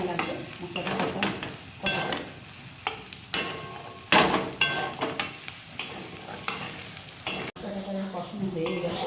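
Spices with chili powder and salt are sautéed and stirred in a pan, a loud sizzle broken by repeated scraping stir strokes close by, with no speech.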